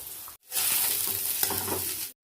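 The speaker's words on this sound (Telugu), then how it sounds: "ఇలా వేగాక ముందుగా తరిమి పెట్టుకున్న అంగాకరకాయ ముక్కల్ని ఇలా వేసుకొని కలుపుకోవాలి." Pieces of ivy gourd stir-fry in a pan, a short burst of loud close sizzling that starts abruptly, holds for under two seconds with a soft stirring scrape, then cuts off.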